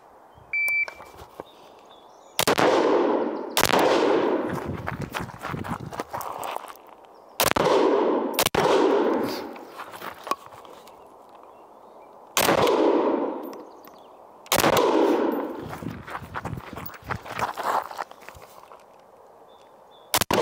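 Loud, close semi-automatic rifle shots during a 25 m barricade shooting drill, fired in several quick bursts with sharp cracks and ringing echo, separated by short pauses and rustling movement.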